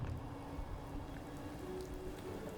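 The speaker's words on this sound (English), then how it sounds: "of course it started raining in the Commonwealth" Steady rain falls in the Commonwealth of the video game Fallout 4, a dense, even patter that holds constant throughout with no voices.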